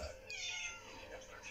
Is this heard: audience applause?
no